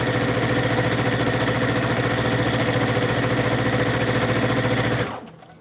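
A sewing machine stitches down satin ribbon trim with a steady, close, rapid mechanical whir and rhythmic needle clatter that runs without pause for about five seconds before stopping abruptly.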